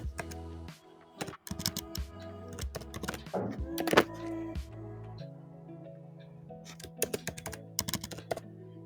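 Login details typed on a computer keyboard make a close, clattering run of key presses in uneven bursts, with brief pauses between the groups and one heavier thunk.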